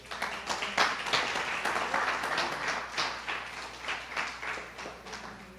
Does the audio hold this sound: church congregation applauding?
yes